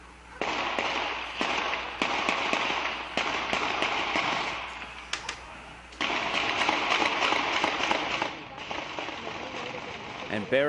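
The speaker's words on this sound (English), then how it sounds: "There's explosions and gunfire going on down the street." Gunfire and explosions down a residential street during the Boston Marathon bombing suspect manhunt: a rapid, sharp run of cracks and bangs in dense bursts with brief pauses, loud and sustained.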